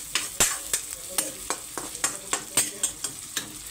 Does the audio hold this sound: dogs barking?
no